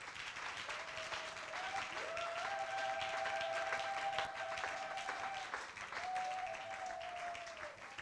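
A church congregation applauds in steady, sustained clapping that fills the room, with a held tonal voice or instrument line rising above it partway through.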